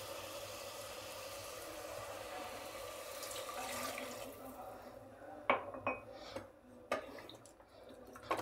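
Water pours steadily into a pot of fried mutton for a few seconds, followed by a few clinks and knocks of cookware.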